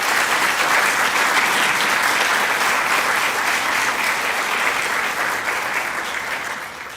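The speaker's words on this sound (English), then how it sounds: "Just give him another hand of applause." Audience applause in a lecture hall after an inaugural academic lecture, a steady, full wash of clapping from many hands that holds for several seconds, then fades slightly at the end.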